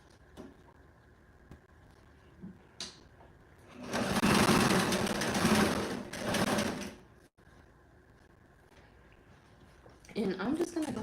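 A sewing machine stitches a cozy bed pillow, running in a steady buzzing burst of about three seconds at close range, then stopping. Quiet handling noises come before it and a voice speaks near the end.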